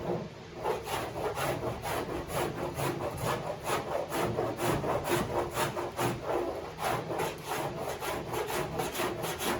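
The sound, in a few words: cheese grater rasp shaving soft fiberglass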